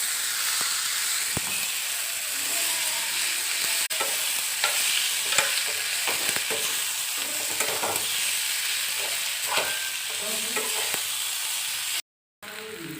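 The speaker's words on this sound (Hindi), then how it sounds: "हम डालेंगे मिर्च इसमें और इसे चलाएंगे" A vegetable dish seasoned with salt and chili fries in a pan while being stirred, giving a continuous soft sizzle with intermittent scraping and tapping of the utensil, no voices, a brief cutout near the end.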